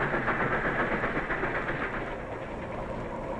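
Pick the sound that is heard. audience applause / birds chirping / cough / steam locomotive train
steam locomotive train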